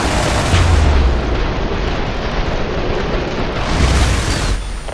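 Airstrike explosions in the game IS Defense, loud overlapping blasts and rumbling booms that swell near the start and again toward the end, with no talk.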